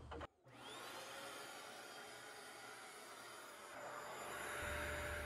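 A Bissell ProHeat 2x carpet cleaner switches on with a short click and then runs with a steady, loud motor drone and suction whine, rising slightly in pitch near the end as it pulls dirt up from carpet.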